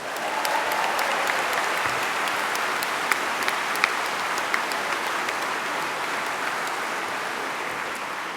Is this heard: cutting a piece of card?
no